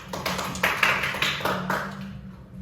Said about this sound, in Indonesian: Berikan tepuk tangan dulu untuk Restu dan Werma